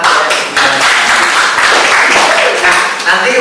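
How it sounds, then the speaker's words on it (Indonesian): Classroom group at a vocational school applauding, a loud, dense burst of continuous hand clapping lasting a few seconds with voices mixed in underneath. "ya, tepuk tangan"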